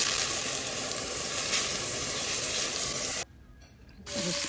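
Butter dropped into hot cooking oil in a pan while preparing sweet and sour cream dory fish: a loud, even sizzle that cuts out briefly near the end before resuming.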